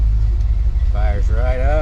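A 1985 Dodge D100 Utiline pickup engine rumbles loud and steady, idling low and heavy once started, with a voice talking over it partway through.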